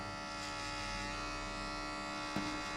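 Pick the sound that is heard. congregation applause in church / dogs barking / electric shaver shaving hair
electric shaver shaving hair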